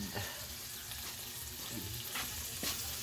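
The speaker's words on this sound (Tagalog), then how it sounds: "Luto po yung asawa ko ng daing na buwad." Dried fish, Filipino daing na buwad, frying in a pan: a steady broadband sizzle and crackle runs throughout at close range, with a few sharper pops standing out, and no one speaks.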